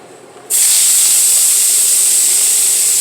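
Portabella mushrooms in a hot pan: a loud, steady sizzle bursts in suddenly and holds as a bright continuous hiss, close up, with no talking.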